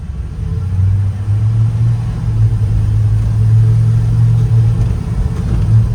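A 1962 Chevy C10 work truck pulls forward under throttle, a steady low engine rumble heard from inside the cab with constant road noise throughout.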